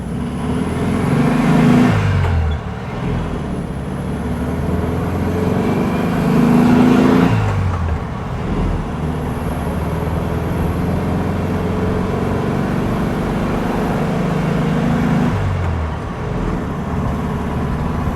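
A 1957 VW Beetle drives along with a steady engine drone and road rumble, rising in several revving surges as it accelerates through the gears, heard from inside at close range with no talking.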